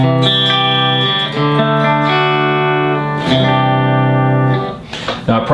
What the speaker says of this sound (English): I could throw some Loft Reverb on that